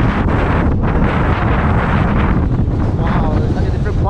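Strong wind roars across the exposed summit of Cox Tor on Dartmoor, buffeting the microphone in a loud, continuous rumble with gusty swells throughout.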